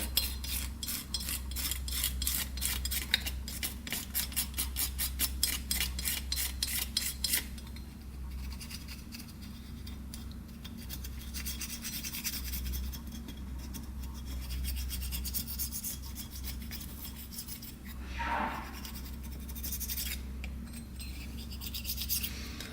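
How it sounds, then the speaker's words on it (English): Razor blade lightly scraping the gasket surface of a Honda CRF250R engine, a fine rapid rasping that is quick and rhythmic at first, then slower, softer scratching over a low steady hum. "I just like to take a razor blade, just lightly go over this area, kind of get that off there."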